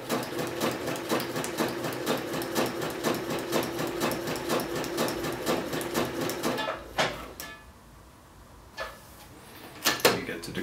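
A sewing machine runs a fast zigzag stitch along trouser pocket lining, a rapid even chatter of needle strokes that pauses briefly, then resumes with a few short bursts close by.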